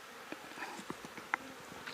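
Honeybees buzz around an open hive during a nuc installation, a faint, close buzzing with a few individual bees passing near in short, brighter bursts.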